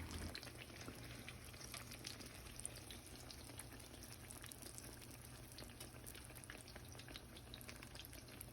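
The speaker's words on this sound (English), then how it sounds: "Continue to fry up all the eggplant slices" Eggplant slices sizzling in hot oil in a frying pan, a steady, dense crackle with scattered sharper pops, close and even throughout with no voices.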